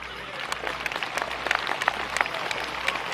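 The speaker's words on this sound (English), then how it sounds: "How about a nice round of applause for the Suffolks tonight?" Audience applause at the Horse Progress Days 2024 breed show, honoring the Suffolk horses: scattered, moderate clapping at a distance with sharp individual claps spiking through a steady crowd bed.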